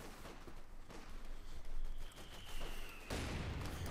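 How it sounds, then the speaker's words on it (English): Mortar fire in the strategy game Company of Heroes 2, with German mortars shelling troops: a run of muffled explosive thuds and crackling blasts over a busy battle backdrop, capped by a louder, fuller impact near the end. "Another mortar hit there."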